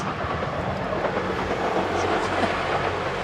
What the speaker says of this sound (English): train just going past.